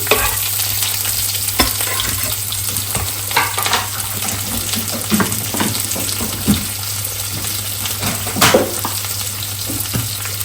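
Onion and garlic sizzling and being stirred in a hot pan for a red spinach dish, steady close frying hiss with scraping stirs and a few sharper clatters, no talking.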